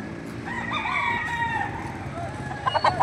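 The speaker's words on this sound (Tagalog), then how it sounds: "Hindi natin matanong kung kaninong manok ito mga boss." A rooster at a poultry sale in Padre Garcia, Batangas, crows and clucks at moderate distance, the calls rising over low background chatter, with a few sharper clucks near the end.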